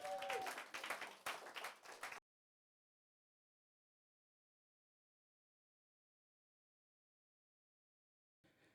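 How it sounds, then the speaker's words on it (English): A brief burst of audience applause at a speaking event, thick clapping for about two seconds that cuts off abruptly into silence, with a faint return of sound at the very end. "Now, let's give her another round of applause."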